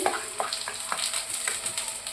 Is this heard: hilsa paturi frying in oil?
yes